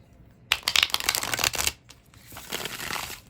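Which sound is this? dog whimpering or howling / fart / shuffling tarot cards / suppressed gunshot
shuffling tarot cards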